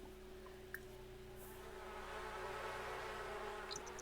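Bees buzz around a hive in The Sims 4, a faint steady droning hum with a few small clicks and blips over a quiet game ambience, no voices.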